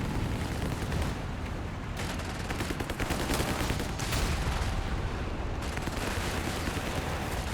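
Battle noise from Company of Heroes 3 fills the scene: sustained machine gun fire with dense overlapping bursts and distant blasts, steady and fairly quiet, with no voices over it.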